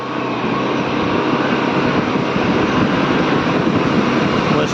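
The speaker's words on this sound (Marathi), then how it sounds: "मिनी धबधबा" A small waterfall on a village hillside makes a steady, loud rushing wash of falling water that stays even and unbroken throughout.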